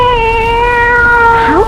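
A loud, close cat meow in an old-time radio drama, one long drawn-out wavering cry that bends upward at the end, heard alone.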